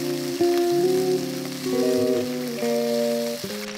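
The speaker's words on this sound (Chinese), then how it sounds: "将海瓜子放入锅中拌炒" Clams hiss and sizzle as they are stir-fried in a hot pan, a continuous frying sound under steady, tonal background music.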